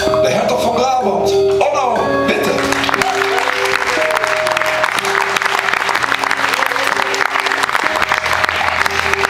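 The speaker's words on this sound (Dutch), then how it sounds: "Geef hem een hartverwarmend applaus" An audience at a live concert gives the drummer a warm ovation, dense sustained applause filling the room after a few lingering instrument notes, with an announcer's voice at the start.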